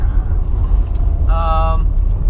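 A 1991 Honda CRX Si driving on the road, its steady low engine and road rumble filling the cabin, with a short tonal chime partway through and people talking over it.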